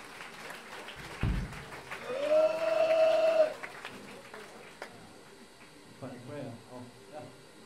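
At a live show in Tiefgrund, Berlin, the audience cheers the band with applause and a loud whistle that swells and fades, then people speak over scattered noise in the room.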